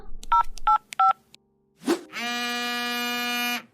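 Three short electronic dialing tones in quick succession, followed after a brief pause by a long, steady buzzing tone, close and clear.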